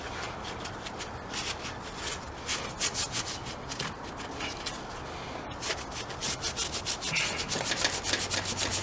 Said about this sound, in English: you can start just kind of scrubbing it on the surface